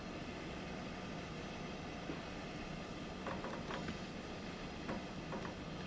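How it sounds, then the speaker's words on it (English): A train passes in Train Sim World 2 on the Brighton to Seaford branch line: a steady, broad rolling rumble and rail noise that holds evenly throughout, with a few faint higher squeaks partway through. "Okay, there's a train here as well."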